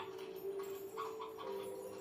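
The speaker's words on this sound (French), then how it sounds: "Ok, là on a des poules." Soft, repeated clucking of chickens in the video game Slime Rancher over a steady electronic hum, fairly quiet and evenly paced with no talking.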